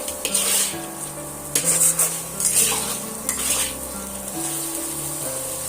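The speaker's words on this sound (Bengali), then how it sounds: "আলুগুলো দিয়ে আবারও আমি এটা পাঁচ মিনিটের মতন কষিয়ে নেব যাতে সমস্ত মশলা আলুর মধ্যে ঢুকে যেতে পারে" Potatoes stir-fried with spices in a pan for Punjabi aloo dum, repeated metal spatula scrapes and clinks over a steady sizzle, close and clear, with a low hum underneath.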